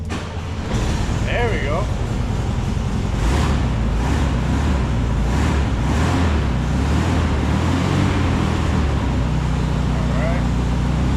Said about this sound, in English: a little bit of throttle, and this one usually always cranks on the first try